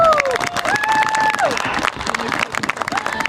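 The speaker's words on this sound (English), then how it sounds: "How about a big round of applause for Leighton Caskey." A crowd at a senior recognition night for high school football claps and cheers for a senior player, the applause mixed with shouts and whistles, with voices talking over the noise.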